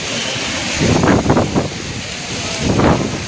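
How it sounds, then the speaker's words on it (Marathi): Strong monsoon wind at Marine Drive, Mumbai, during heavy rain with waves surging, buffets the microphone in low, rumbling gusts over a constant hiss, with no voices. "हवा पण खूप आहे."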